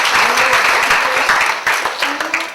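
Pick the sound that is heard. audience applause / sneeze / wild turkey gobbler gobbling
audience applause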